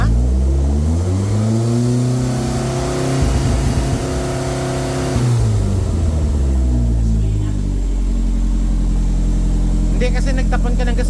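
A car engine from a JDM collection revs hard and loud against the rev limiter. Rising harmonic sweeps hold, stutter and fall back, then settle into a rough high idle with a brief rattle at the end. Someone speaks briefly.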